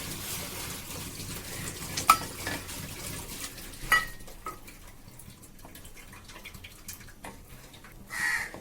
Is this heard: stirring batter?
yes